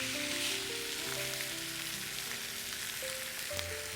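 Meat, fatty side down, searing and sizzling in a hot pan after being flipped, a steady close crackling sizzle throughout with faint tonal background music underneath and no talking.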